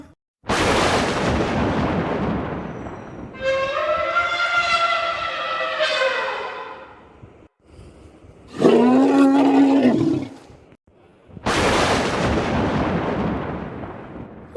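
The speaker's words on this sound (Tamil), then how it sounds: "என்ன யானை சத்தம் கேக்கு" Loud elephant trumpeting, a wavering brassy blast followed by a deep roaring call, with heavy rushing noise bursts before and after.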